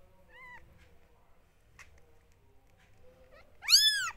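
A newborn village kitten meowing for its mother, a few faint thin mews followed by a louder, drawn-out cry close by in an otherwise quiet room.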